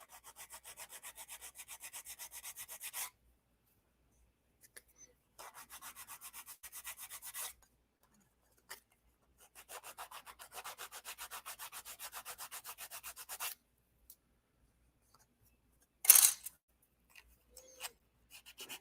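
Sandpaper rubbing across the wooden walls of a scale model in steady, rapid back-and-forth strokes, heard in several bursts separated by pauses, with a few light knocks and handling sounds between.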